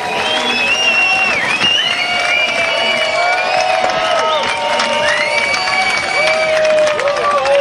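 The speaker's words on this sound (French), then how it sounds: "Et voilà Mel Trevoka que l'on peut applaudir." A large crowd at a race final applauds and cheers continuously as a racer is announced, with whistles and shouts rising over a dense wash of clapping, steady and fairly loud throughout.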